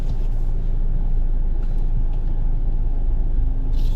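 Road traffic rumbles steadily near the CCP Complex by Rojas Boulevard in Manila, a dense continuous low drone of passing vehicles with no talking.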